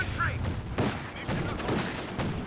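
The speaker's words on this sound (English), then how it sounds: "Oh, they're going to run over this mine" In a video game, a tank runs over a mine and blows up. Booming blasts and rattling gunfire overlap throughout the clip while a commentator keeps talking over the battle.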